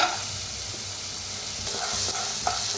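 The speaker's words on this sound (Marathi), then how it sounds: "पहिला आपण हे सगळं भाजून घेऊया, बी भाजून घ्यायचं।" Seeds dry-roasting in a kadhai before brinjal goes in, a continuous close frying hiss with a few light scrapes and stirring taps near the end.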